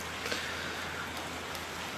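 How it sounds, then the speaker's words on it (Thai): Heavy rain from Typhoon Pabuk in Satun province, Thailand, a dense continuous hiss of falling water at moderate level with no pauses. "ตอนนี้ฝนตกหนักมากครับ"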